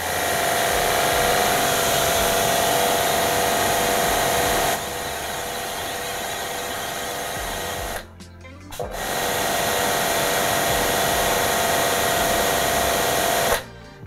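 A Kranzle HD 7/122 TS pressure washer runs with a steady, loud electric motor hum and whine. It cuts out briefly around the middle, then restarts and keeps running evenly until the end.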